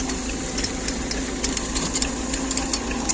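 A modified combine harvester works a pumpkin field. Its engine gives a steady mechanical drone at moderate distance, with faint rattling and clicking on top, and no voices.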